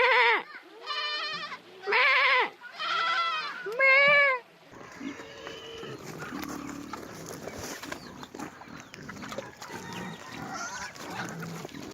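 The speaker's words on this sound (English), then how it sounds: "I'm surrounded by lambs at the moment." Young lambs on a farm bleat loudly four times in quick succession, close by, followed by a busier stretch of fainter bleats and farmyard noise.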